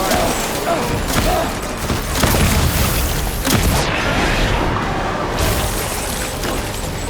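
Gunfire and booming blasts from a firefight in the video game Death Stranding Director's Cut, a dense, loud barrage of shots and impacts running continuously throughout without any speech.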